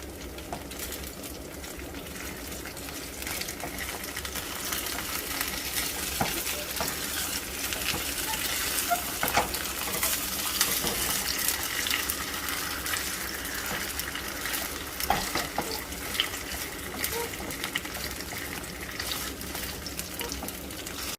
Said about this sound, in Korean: 지글지글 맛있는 소리가 들리네요